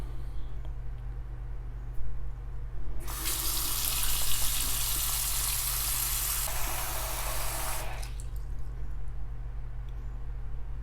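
Cold tap water gushes into a bathroom sink drain during a Drano Max Gel clog test, a loud steady hiss of about five seconds that starts and stops abruptly over a constant low background hum.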